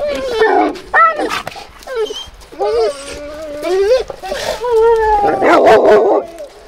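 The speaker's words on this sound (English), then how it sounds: "What's going on, crazy dogs?" Excited dogs bark, yip and whimper close by in a lively, irregular mix, with a voice speaking to them intermittently.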